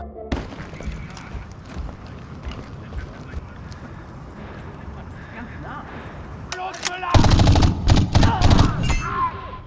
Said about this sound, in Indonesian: ketahuan dan disambut tembakan bertubi-tubi